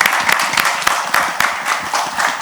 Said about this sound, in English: a big shout out and a round of applause for each and every individual